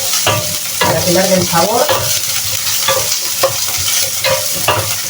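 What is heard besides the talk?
frying meat sofrito for fideuà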